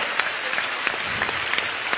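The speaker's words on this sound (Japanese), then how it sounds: "C の一人で遊ぶに共感した方拍手" Steady, dense clapping fills the room as an audience applauds during a children's variety show, a continuous crackling wash with occasional sharper claps and no talking.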